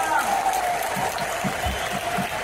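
An audience at an anniversary event applauds the team with steady clapping, a voice speaking over the top throughout.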